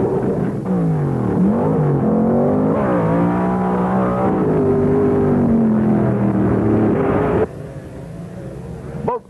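Loud roaring engines rev and scream as cars launch hard and accelerate away, the howl rising in pitch before cutting off abruptly.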